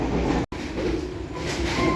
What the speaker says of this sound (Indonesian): kita sekarang berada di kereta makan KA Tawang Jaya reguler